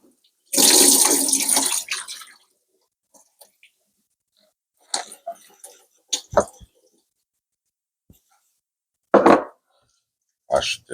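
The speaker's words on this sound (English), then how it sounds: "Wash my spinach." Spinach being washed in water during home cooking prep, a loud splashing rush for about a second and a half, then a few short scattered clatters and handling sounds with quiet gaps between.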